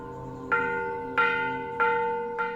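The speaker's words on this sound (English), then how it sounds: "The gong dictates the pace of the monks' lives, the beginning and end of their work, prayers, and meals." A gong at a Buddhist monastery in Luang Prabang, Laos, is struck four times at an even, unhurried pace, each stroke ringing bright and sustained before the next, alone and fairly near.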